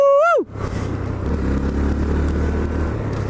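A Honda Grom motorcycle engine hums at a steady low idle-like rumble after a brief rising whine at the start, close and loud, with no speech.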